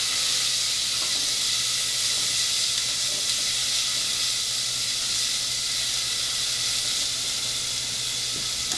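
Chopped onion, about half a medium one, sautéing in a pan for tomato basil soup, giving a steady, close, loud hiss that holds evenly throughout with no talking.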